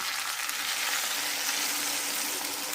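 Vegetables including soybean, potato, pumpkin and stalks fry in a pan, giving an even, hissing sizzle throughout with a faint scrape of stirring and no voices.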